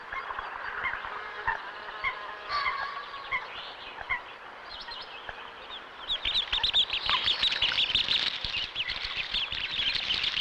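Mallard ducks and ducklings at a lake give a steady stream of soft quacks and high peeping calls. The chatter grows denser and louder in the second half, over light ambient background noise.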